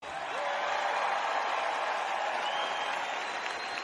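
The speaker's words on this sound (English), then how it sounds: "let's give another round of applause to the WWE." Large arena crowd at a WWE Raw event, roaring applause and cheering as a dense continuous wash, steady and somewhat distant throughout.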